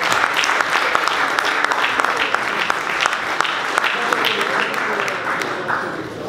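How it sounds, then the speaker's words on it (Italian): Audience applause at a celebratory football event, many hands clapping in a dense, sustained burst that tapers slightly near the end, moderately close and loud. "Quindi facciamo un applauso anche per loro."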